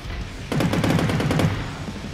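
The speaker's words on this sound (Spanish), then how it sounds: "es que este lleva una ametralladora" Underwater battle-royale video game Last Tide: a fast rattling burst of machine gun fire, about a second of rapid shots, loud and close over a quiet background.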